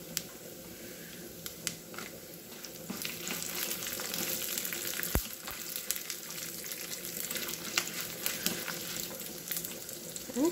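A tempering of cumin and garlic frying in oil for an Andhra-style Malabar spinach dal, a quiet steady crackle and spatter with scattered small pops and one sharp click midway.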